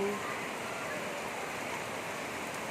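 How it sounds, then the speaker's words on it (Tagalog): Rain falls in a steady, dense hiss that holds evenly throughout, close and moderately loud, with no break. "Sa atin napatigil kasi umuulan."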